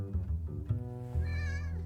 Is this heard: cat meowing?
yes